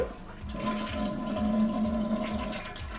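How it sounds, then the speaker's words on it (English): A household toilet flushes with its tank cover off, draining the tank: a steady close rush and gurgle of water running for several seconds with no voices. "Next, remove the tank cover and flush the toilet to empty the tank."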